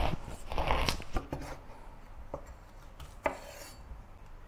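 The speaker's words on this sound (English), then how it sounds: "Then cut it in half lengthwise." A knife slices lengthwise through a bitter gourd on a board, several close crisp cuts and knocks clustered early, then a few sharper isolated taps.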